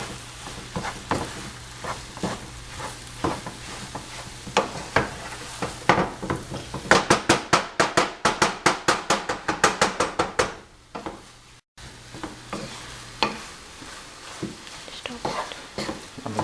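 Kothu parotta is mixed on a hot pan, with a quick run of sharp metal-on-pan clanks and scrapes under a soft sizzle. A voice talks over the work at times.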